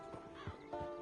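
A horse in Red Dead Redemption 2 whinnies in a short rising neigh over soft hoof clip-clops, close and moderately loud, with faint game ambience beneath.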